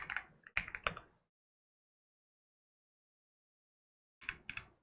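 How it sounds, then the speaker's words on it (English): Quick bursts of keystrokes on a computer keyboard as a search is entered, a short flurry of close taps, a long silence, then a few more keystrokes near the end. "we'll just go up here to YouTube and we'll type in networking cables"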